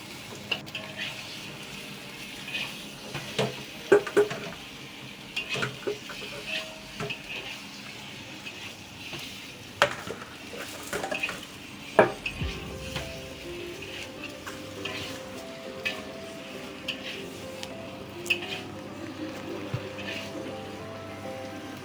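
A pot of Devil's curry is stirred slowly, giving soft scraping and gentle clinks of a spoon against the pot over a low simmering bubble, with irregular quiet knocks and no talking.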